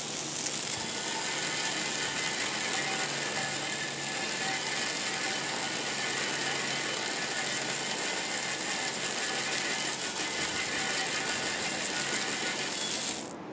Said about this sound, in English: So I'll just continue to wash this with the garden hose a couple more times